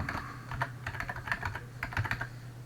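Fingers type on a computer keyboard in quick, uneven bursts of close, crisp key clicks, with brief pauses between runs and a low steady hum underneath.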